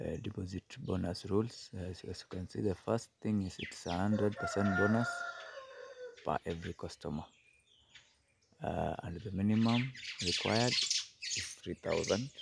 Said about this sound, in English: Pardon the birds.